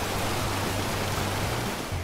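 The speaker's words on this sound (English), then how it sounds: "In sixth place is the highest waterfall in Europe, the Vinufossen." Vinufossen, Europe's highest waterfall, in Norway, heard as a dense, steady roar of falling water with a low rumble underneath, continuous and unbroken throughout.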